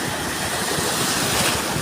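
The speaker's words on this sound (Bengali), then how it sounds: "আসছে প্রচুর বড় ঢেউ।" Big sea waves roll in a steady, dense roar of surf and wind, loud and continuous throughout with no voices.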